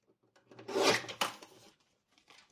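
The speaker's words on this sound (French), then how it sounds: "Et j'ai arrondi le bord avec ma petite perforatrice d'angle." A small corner punch rounds a paper edge with a brief close-up crunching rub, a short clustered burst followed by faint rustling in a quiet room.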